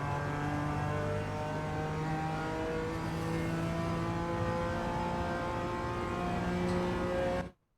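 A BMW M2 G82 GT4 race car in the iRacing sim at Suzuka accelerates hard out of a corner, its engine note rising steadily in pitch with strong harmonics for about seven seconds before cutting off sharply.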